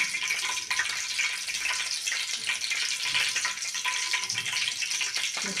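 Mustard seeds and cumin hit hot oil in a pan and set off a steady, close sizzle. The sizzle is loud, with crackling and spitting, and no talk over it.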